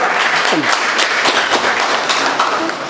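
An audience at a Tamil association gathering bursts into sustained clapping, dense and lively, with a voice briefly heard over the applause.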